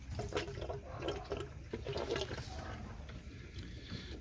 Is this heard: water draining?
yes